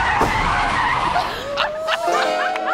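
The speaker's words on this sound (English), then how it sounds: "you're not only reversing, Sophie, but you're going bloody quick" A car reversing at speed in a reverse flick challenge lets out a loud tyre skid and squeal over engine noise, the screech rising and sustaining through the second half.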